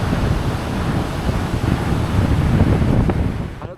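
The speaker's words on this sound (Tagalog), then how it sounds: "napakalakas talaga ng alon at napakalakas din ng hangin" Strong wind buffets the microphone at a beach while big ocean waves roar in a dense, continuous wash, loud and close throughout.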